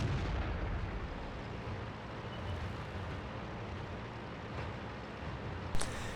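Tank gunfire in World of Tanks on the Prokhorovka map booms over dense, continuous battle rumble, with one sharp shot near the end.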